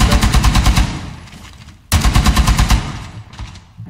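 Gunfire in Rainbow Six Siege: two loud bursts of rapid automatic fire, each a string of quick even shots that trails into echoing decay, close and punchy with no talk.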